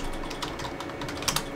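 Quick keystrokes on a computer keyboard while entering commands to configure a Cisco router, a steady run of close, crisp clicks with a couple of sharper taps near the end.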